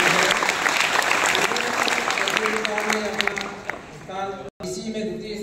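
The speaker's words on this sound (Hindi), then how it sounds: "जोरदार तालियां बजाकर" An audience claps for student prize winners at a school competition award ceremony, steady loud applause throughout, with a voice speaking over it near the end.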